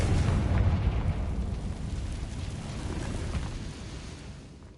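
A Confringo spell detonates in Hogwarts Legacy, a single low booming blast that swells at the start and then rumbles and decays steadily over several seconds, fairly loud with no voices.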